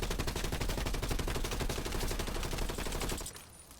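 Rapid sustained bursts of XM4 assault rifle hipfire in Call of Duty Warzone, dense and loud for over three seconds before cutting off abruptly into quiet.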